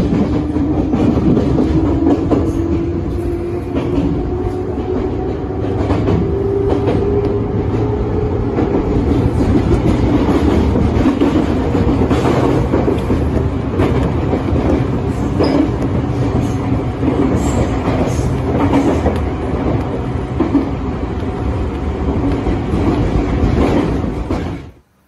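A two-car Ryutetsu Nagareyama Line train runs steadily, with loud continuous rumble, rhythmic clickety-clack of wheels over rail joints and a faint squeal, fading sharply at the very end.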